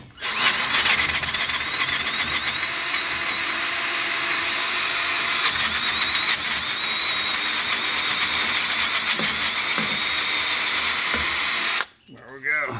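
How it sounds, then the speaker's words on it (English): A power drill bores steadily through a wedge, a loud continuous whine lasting about twelve seconds before cutting off abruptly near the end, with a brief burst of sound after. "Drilling through the wedge is pretty easy."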